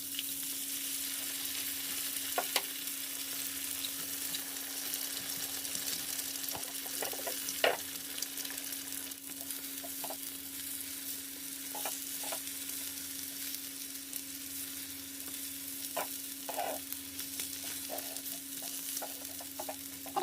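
Two eggs frying in a pan and being stirred, a steady close sizzle with scraping stir strokes and occasional light clicks throughout, no voices.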